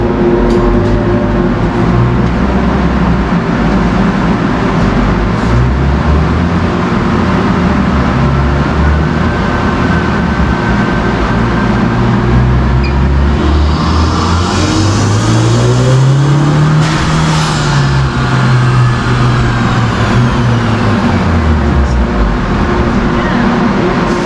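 A Honda Type R engine on a dyno, droning loud and continuously, its pitch climbing and falling as it revs through the gears, close and sustained for over twenty seconds.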